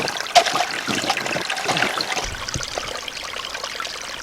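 Water trickles and pours steadily into a roughly 4-liter container at a winter campsite with a hot tent, a continuous close splashing stream without talk.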